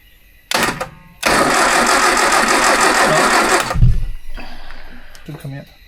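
Mini panel van engine cranking briefly, then catching with a loud roar that settles into a steady close idle, with some clunks and a voice speaking near the end.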